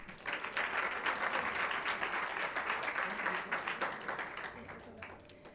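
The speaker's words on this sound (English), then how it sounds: "A big round of applause for the University of Zululand." Steady audience applause at a university research plan launch event, a dense wash of many hands clapping at moderate distance, sustained for several seconds before easing off slightly at the end.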